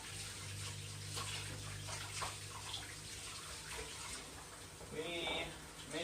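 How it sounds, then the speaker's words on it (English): Running tap water pours steadily while hands are washed beneath it, a continuous rushing hiss with some splashing, faint and close, with a low hum underneath throughout. "I'm going to wash my hands"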